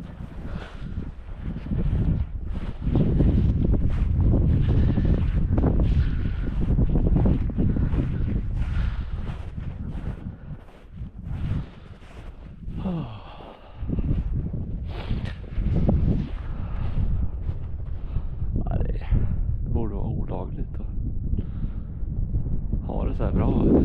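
Cold arctic wind at around minus five or six degrees roars steadily through a forest on a moose hunt, loud, close and gusting, buffeting the microphone continuously with brief lulls.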